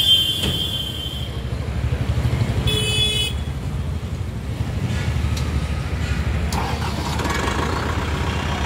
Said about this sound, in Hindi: स्टार्ट हो गया भाइयों, क्या शानदार आवाज है